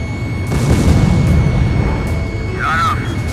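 Rumbling booms and explosions from enemy fire in the PS2 combat flight game Ace Combat 5, a dense, loud low roar swelling through the clip with radio chatter layered over it.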